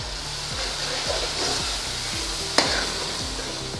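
Spices with turmeric and a spoonful of crushed red chilli sizzle in hot oil for a fish curry, a continuous close frying hiss with rhythmic scraping strokes of a spoon and one sharp clink against the pan.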